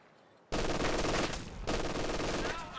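Machine-gun fire in the real-time strategy game Company of Heroes 2 comes as two loud, sustained bursts of rapid shots, heard close and alone with no voices.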